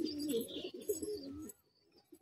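Pigeons coo in a racing-pigeon loft, a close run of throaty rolling calls for about a second and a half, then fading to near silence with a couple of soft trailing notes.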